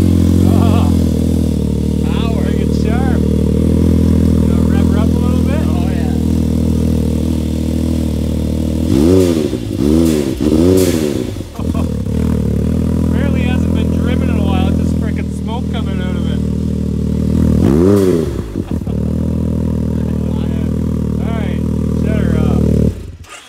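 A Can-Am Maverick X3 fitted with a custom exhaust idles loudly up close, broken by a few sharp rev bursts; a person talks over the engine now and then.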